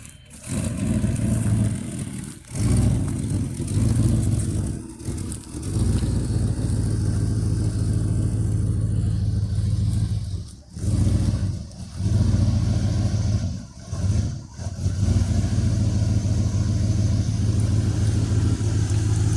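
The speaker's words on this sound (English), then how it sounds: "car's running a little rough. It's a little cold also" A 1973 Mercury Cougar XR7 engine running rough on a cold drive, a steady loud low drone broken by several brief drops and dips as the throttle lifts and returns, close, with no talking.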